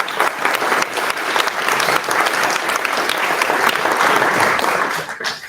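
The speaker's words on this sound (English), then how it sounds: "So I just want to applaud all of you." Audience applause in a large room: dense, sustained clapping from many people that holds steady at full strength, then tails off near the end.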